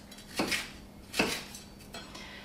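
A knife cuts half a green pepper into small pieces on a board, giving two distinct sharp chops followed by a fainter third tap, close and clear over a quiet room.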